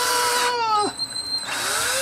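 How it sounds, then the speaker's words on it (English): A power drill bores a hole during a modding job: a short, loud, close whine that bends downward in pitch as the bit bites, then eases off and spins back up. "Oh, I forgot to drill the other hole."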